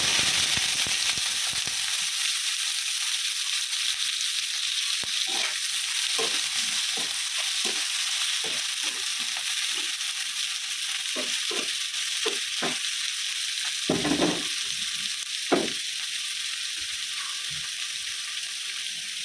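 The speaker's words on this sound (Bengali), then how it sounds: "তো আমি এবারে পেঁয়াজ আর কাঁচা লঙ্কাটা ভাজবো" Onion and green chillies frying in oil seasoned with dried red chilli, a steady bright hissing sizzle throughout, punctuated by stirring scrapes and spatters, close and without talk.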